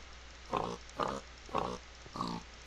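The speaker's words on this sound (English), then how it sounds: "And there's a pig." A pig in Minecraft gives four evenly spaced oinking grunts, each short and clear, standing alone against a quiet background with no talking.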